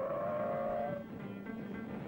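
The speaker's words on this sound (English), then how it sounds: "From 70 with cold brakes, the Vega made this stop in 192 feet." A Vega with cold brakes stopping hard from 70 in a braking test gives a loud, sustained tire squeal that rings for about a second, then fades into lower road and car noise.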